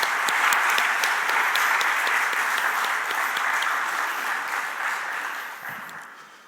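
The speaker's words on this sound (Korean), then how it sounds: "우리 다 같이 한 번 더 2814 여성교회 박수로 축복해 주시겠습니다." Church congregation applauding during a Wednesday prayer service, a thick continuous roar of clapping that fades gradually toward the end, with no speech.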